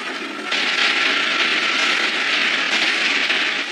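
Warship engines pushed to full power in an animated naval battle: a loud, steady roar surges in after a quieter half-second and then holds level and close to the end.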